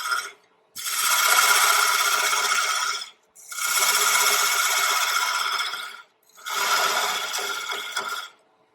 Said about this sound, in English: I like to take my parting tool and just bring it in the top of that hat